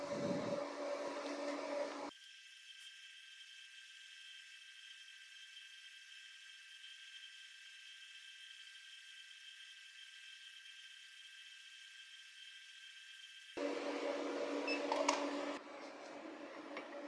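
An induction forge heats a 1-inch round steel bar, giving a steady, sharp high-pitched electronic whine that holds for about eleven seconds. Brief bursts of broadband workshop noise come just before and after it.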